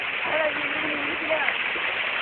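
Strong river water flows as people wade through it in a jungle setting, a steady rushing and gurgling wash under faint voices talking.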